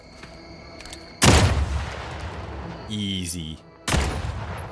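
Gunfire in the video game Outer Worlds 2, with two loud bursts of shots and a rattling volley between them over game background sound, while a voice talks briefly.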